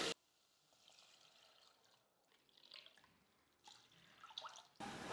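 Water poured from a glass into a cooking pot while making kodo millet tomato rice; a faint, soft trickle and splashing comes in short bursts between quiet pauses.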